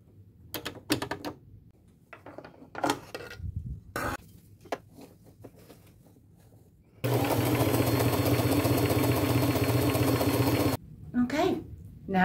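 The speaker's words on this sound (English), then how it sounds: "I will use my largest zigzag stitch, light pink thread, and I will just stay as close to the edge as I can and get it completely sewn." A sewing machine runs a continuous zigzag stitch in light pink thread along a garment edge, a loud, steady whir lasting several seconds after a stretch of handling clicks and rustles, with brief talk before and after.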